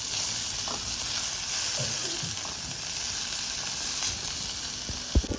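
Onions and green chillies frying in oil, a constant bright sizzle with occasional soft stirring knocks and a sharper clink near the end, close and without speech.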